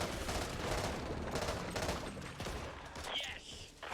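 Gunfire from the co-op zombie shooter Back 4 Blood crackles in a rapid, continuous fusillade of close shots that fades slightly toward the end, with a voice briefly audible beneath the burst.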